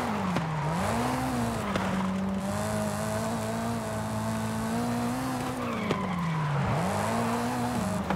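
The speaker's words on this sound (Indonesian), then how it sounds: "Bawaannya pengen ngepot terus mobil" A Mitsubishi Lancer Evolution VI drifts in Forza Horizon 5, its tires squealing in long continuous skids over a steady, revving engine drone that dips and swells with each slide.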